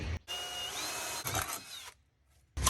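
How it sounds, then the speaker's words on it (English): A power drill with a 5/16 bit whines steadily for about a second, pauses briefly, then bores again, drilling bracket holes on a jon boat, with a short burst of drilling returning at the end. "So I'm gonna drill out these two holes with the 5/16 drill bit."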